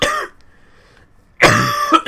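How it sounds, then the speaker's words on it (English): A man coughs sharply once, falls quiet for about a second, then gives a harsher, longer cough with a throat-clearing rasp, close and loud. "Bloody cough"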